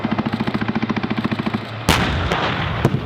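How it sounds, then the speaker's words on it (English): A combined arms live fire exercise by an armored brigade combat team, where a steady run of rapid machine-gun bursts gives way to a heavy artillery boom and a later sharp blast, all heard from a distance. "This combined arms live fire exercise is the highlight of the Tupelo-based 155th Armored Brigade Combat Team's warfighter exercise."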